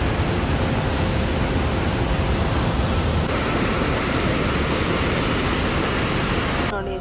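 Forceful water crashing down at a waterfall in Switzerland, a loud, continuous broadband roar close by that holds steady throughout and cuts off abruptly at the very end.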